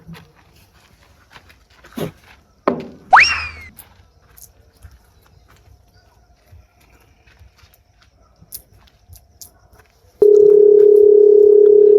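A telephone dial tone sounds while a call is being placed, a loud, steady, unbroken tone that starts suddenly near the end after a few soft handling noises and a brief whistle-like sound.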